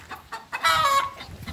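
Chickens and a rooster clucking close by, a few short squawks followed by a louder drawn-out cackle.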